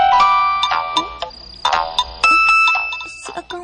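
A mobile phone rings with an incoming call, a bright electronic ringtone melody of repeated chiming tones playing close and loud over several seconds.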